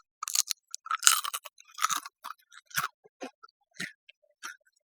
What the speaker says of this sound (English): So that was the potato chip again.